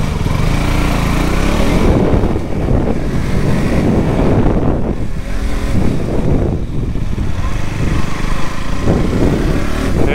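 A 2021 KTM RC 200 motorcycle rides on a race track at Ahmedabad, its engine buzzing under heavy wind buffeting on the microphone, surging and easing in waves.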